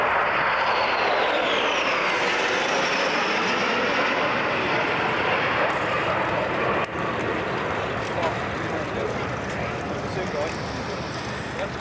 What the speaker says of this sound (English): Here is one of those B-52s.